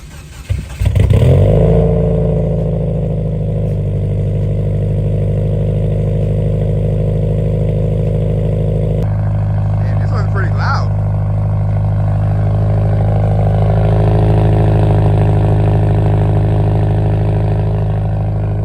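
A 2014 Subaru WRX hatchback engine cranks and catches from cold, then idles steadily and loudly nearby with a deep, rumbling exhaust note and no revving.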